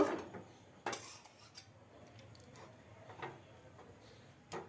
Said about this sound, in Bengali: এবার আলুর দমটা ঢেলে নেব